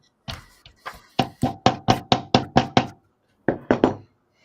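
Pieces are hammered into place with a run of about a dozen sharp, close, evenly spaced knocks. After a short pause, a few more blows follow.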